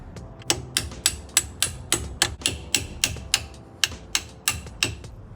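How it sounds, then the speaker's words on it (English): Sharp metallic hammer strikes on a punch driving out brake pad pins on a BMW E92 M3 Brembo big brake kit ring out in a steady rhythm, about fifteen hits close up, each with a short bright ring. "I'm looking for a punch, and I'm just gonna take a hammer and just smack it forward"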